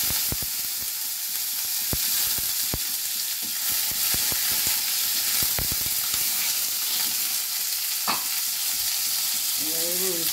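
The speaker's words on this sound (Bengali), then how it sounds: "এবারে দেবো আপনার পেঁয়াজ, পেঁয়াজ দেবো" Onions fry and sizzle in hot oil for Bengali mochar ghonto, a steady close hiss with sharp crackles and occasional stirring clinks, no talking.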